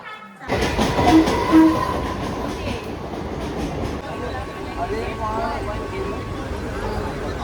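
A Konkan Railway passenger train from Mumbai to Goa rumbles steadily along with rhythmic rail clatter, heard from inside the carriage, with people talking over the noise.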